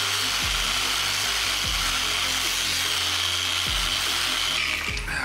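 A power polisher working over scratched paint on a Porsche 928, a loud continuous whirring drone with periodic pitch sweeps as the pad is moved back and forth, close and with no talking.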